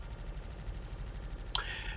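Gunfire from enemy ships in Star Citizen, during an encounter involving a stolen XenoThreat Idris: one sharp, bright burst near the end that rings on briefly over a low engine rumble.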